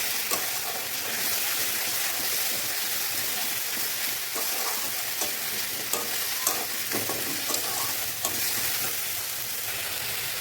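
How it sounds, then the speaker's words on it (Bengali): Ginger garlic paste and spices sautéed in a pan for a Bengali mutton curry, with a steady close sizzle and repeated scraping stir strokes throughout, no talking. "এবার এর মধ্যে আমি দিয়ে দেবো আদা রসুন বাটা, দিয়ে ভালো করে মশলাটা আমি কষিয়ে নেব।"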